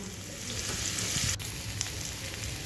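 Potatoes sizzle steadily in hot oil with panch phoron and dried red chillies. The crackle is close and continuous, with faint stirring and no voices.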